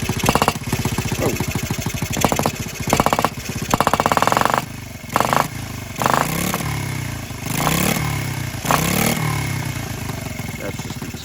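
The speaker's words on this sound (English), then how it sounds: "That's just the exhaust, the gasket there rattling." A Honda Z50R minibike engine runs close by, its loose exhaust gasket adding a steady metallic rattle and clatter over the motor's chugging idle, with brief revs and pauses, while a person talks over it.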